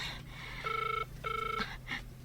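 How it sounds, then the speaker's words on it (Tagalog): A cellphone rings with two bursts of a bright electronic ring tone, close and clear over a quiet room, followed by a short fainter chirp. "Aday ta, agri-ring ti cellphone na."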